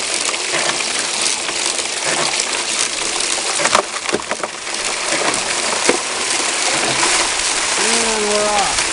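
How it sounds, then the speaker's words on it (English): A bucket trommel runs with water washing dirt and larger rocks, giving a loud steady rushing wash with scattered rattles and knocks of stones, and a voice briefly near the end. "I also added a bunch of bigger rocks to this dirt just to see how the trommel works"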